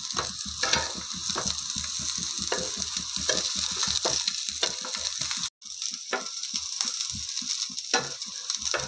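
Aloo tikki potato patties frying in a pan on a low flame, a continuous close crackling sizzle with dense fine popping, briefly cut off for a moment midway before resuming.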